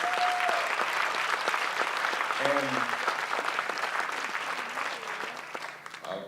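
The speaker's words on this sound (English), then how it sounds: "Let's give all of the speakers a round of applause." Sustained audience applause at a Freedom to Vote 2018 event, a dense steady clatter of many hands that slowly fades toward the end, with a voice briefly speaking over it partway through.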